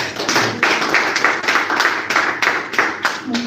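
Audience clapping at a press conference, a moderately loud run of claps with irregular bursts and fading, faint voices mixed in.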